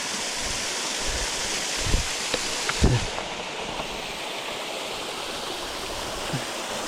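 A mountain stream rushes over a smooth worn rock shelf just downstream of wintry waterfalls edged with ice crystals, a loud, close, continuous roar of flowing water with a few splashes.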